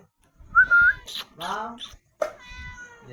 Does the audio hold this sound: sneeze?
no